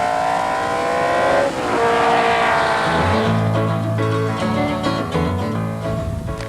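An old racing car slides around a circuit, its engine drone sweeping in pitch before tyre squeal and a rising engine note take over, heard close and loud without talk.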